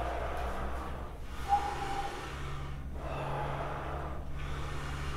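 Accordion bellows pushing air out through the air valve, a steady soft breathy hiss that swells and fades twice, like slow breathing, with a low hum underneath.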